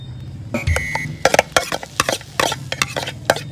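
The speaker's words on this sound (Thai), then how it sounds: "เราจะคั่วกุ้งไปเรื่อยๆ นะครับ ให้น้ำในกุ้งมันออกมาครับ" Small shrimp stir-fried in a pan, with a spatula scraping and clattering against the metal in irregular bursts over a light sizzle, close and fairly loud, no voices.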